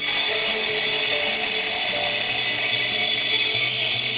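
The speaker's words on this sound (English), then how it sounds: "we're going to be ripping 10 mil off these pavers to make them fit our stairs" A wet saw rips 10 mm off concrete pavers sized 200 by 400 so they fit steps 190 high. It gives a loud, steady, high-pitched whine that holds unbroken throughout, with no voices.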